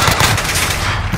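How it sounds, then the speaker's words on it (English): A gun hip-fired in first-person shooter gameplay, a loud continuous rattle of rapid automatic shots with no pause. "I'm just hip firing and doing better."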